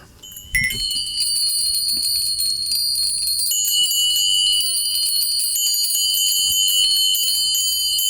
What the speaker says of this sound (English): Here's some other types of bells here.